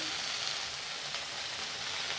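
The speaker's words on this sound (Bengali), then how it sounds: "আলুটা ভেজে নিয়েছি, তারপরে ভেন্ডিটা দিয়েছি।" Okra and potato frying together in a pan, an even, dense sizzle that holds steady throughout with no talk over it.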